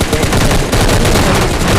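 Automatic gunfire rattles without a break in the mobile shooter game PUBG Mobile Lite, a loud, dense and busy stream of rapid shots.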